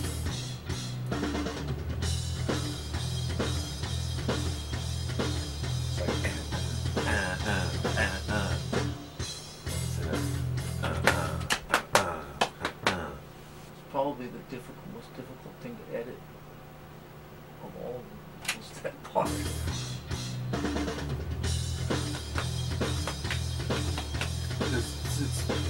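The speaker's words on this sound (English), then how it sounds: "You hear that part again with just the drums and bass?" A passage from a metal song from an album's recording sessions plays on just drums and bass guitar, loud and driving, dropping briefly to a sparse quieter stretch before the heavy rhythm returns.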